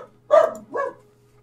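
A dog lets out two short barks in quick succession, the first louder and the second slightly softer, close and clear against near silence.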